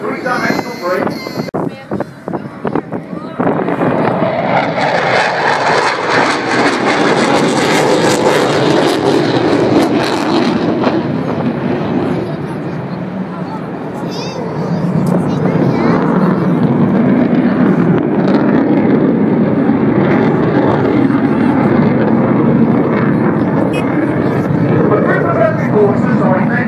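A military aircraft roars overhead at the Southport Airshow, a loud, sustained engine rush that swells and holds, mixed with wind buffeting. A commentator's voice runs over it.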